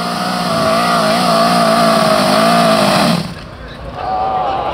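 A moped screams at full throttle in a moped race at Glemseck, a loud, near, steady high-pitched engine drone that cuts off sharply after about three seconds, leaving quieter engine noise behind.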